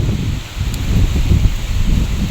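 Wind gusting outdoors beside a house where vegetables grow, with a steady low rumble of air and a soft rustle of leaves throughout, close and fairly loud, no voices.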